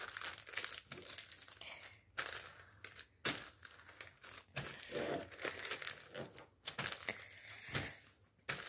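Sheet of paper being folded into an origami dragon, crisp close crinkles and sharp creasing snaps in irregular bursts, with brief quiet gaps between folds.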